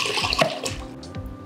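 Water gushes and splashes from a plastic sitz bath fountain filling the basin, a close, steady rushing flow with small bubbling pops and no speech.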